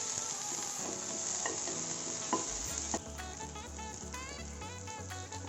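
Garlic and onions sauté in a pan for sweet corn vegetable soup, a steady close sizzle under scraping stirs, with a few sharp clicks and a brief lower rumble partway through.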